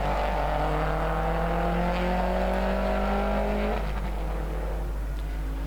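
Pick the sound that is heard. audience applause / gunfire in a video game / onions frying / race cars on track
race cars on track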